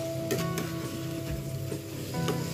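Diced potatoes frying with spices in a pan while being stirred, a steady sizzle with a few scraping stirs, moderately loud and close, no talk.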